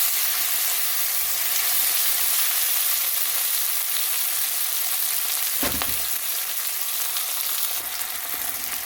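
Chopped ingredients fry in hot ghee for a soya paneer curry, giving a steady, loud sizzle that runs unbroken throughout, with one brief scrape of stirring partway through.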